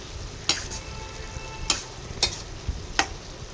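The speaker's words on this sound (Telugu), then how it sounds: "ఇలా మధ్య మధ్యలో ఒకసారి కలుపుతూ ఉండాలి." Potato and tomato curry sizzles in hot oil in a pan while a spoon stirs it, giving a few sharp scraping clacks over a soft, steady frying hiss.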